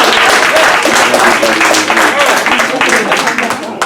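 A live audience bursts into a loud, dense round of applause, steady clapping filling the room throughout with crowd noise mixed in.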